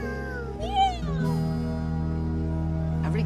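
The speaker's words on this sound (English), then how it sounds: "What does the kitty cat say?" A cat gives a couple of short, clear meows close by, over a steady low background hum.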